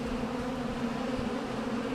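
Honey bees in a five-frame hive make a dense, steady buzzing drone, heard close and continuous throughout with a low tonal hum and no talking.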